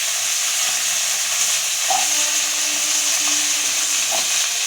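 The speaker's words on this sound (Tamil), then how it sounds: "இந்த வெங்காயத்தையும் போட்டு நல்லா உடைக்கும்" Steady, dense sizzling of onion frying in hot oil, a constant crackling hiss with a few faint clinks, no voices.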